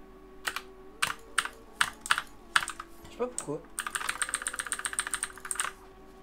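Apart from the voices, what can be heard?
gaming keyboard keys being pressed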